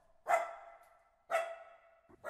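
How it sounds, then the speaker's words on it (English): A dog barks three times at roughly one-second intervals, each bark sharp and clear against near silence, with the last one cut short. "He was barking his head off to remind them not to forget him."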